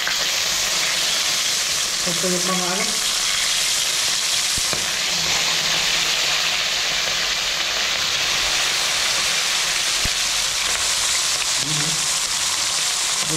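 Pork pieces fry in hot oil, a loud, continuous sizzle with brief bursts of crackling, while a voice speaks briefly over it.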